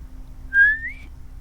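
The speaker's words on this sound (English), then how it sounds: "Do a whistle sound." A single short whistled note from a person, rising then gliding slightly upward, heard close and alone over a faint low hum.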